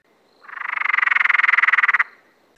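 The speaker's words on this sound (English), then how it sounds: "Have a listen to this distinctive sound and see if you can work out why they are also known as the maniacal" A single Perrin's tree frog call: a rapid train of pulses swelling from soft to loud, then stopping abruptly, like a long rattling cackle.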